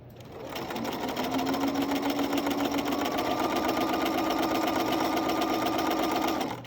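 A sewing machine stitches a patch pocket in one continuous run, its fast, even motor whir and needle rattle loud and close, rising quickly at the start and stopping abruptly at the end.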